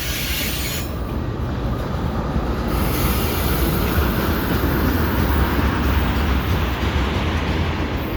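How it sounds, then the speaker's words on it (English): A CN westbound freight train led by an ES44AC locomotive rolls past at night, a loud continuous roar and rumble of wheels on rail with faint squealing, steady throughout. "And that's the end of the train right there."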